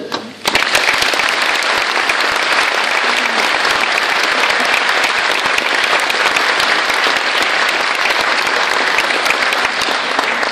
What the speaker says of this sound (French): j'aimerais bien un tonnerre d'applaudissements pour tous ces bénévoles